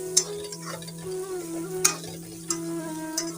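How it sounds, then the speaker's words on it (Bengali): Onions frying in a pan for a leafy greens dish, sizzling steadily while a utensil scrapes and clicks against the pan every so often. The cooking sounds are close and alone, with no talking. "ওই জন্য আমি পেঁয়াজটা একটু ভালো করে ভেজে নিচ্ছি"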